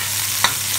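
A pan of shrimp and chopped tomato gets stirred: one short scrape of the utensil over a low, steady cooking hum, close by.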